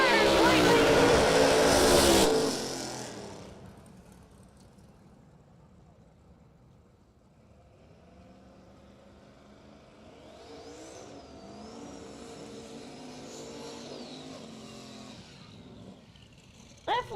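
Drag race cars spinning their tires at a radial-tire drag racing event. A loud engine roar bursts for about two seconds, then fades to a more distant, lower rumble with faint voices in the background.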